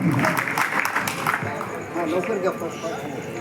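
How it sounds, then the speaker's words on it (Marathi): An audience at an orchestra music show breaks into applause, a dense, loud patter of many hands that continues steadily, mixed with crowd noise and some talking. "एकदा जोरदार टाळ्या होऊन जाऊ दे साहेबांसाठी।"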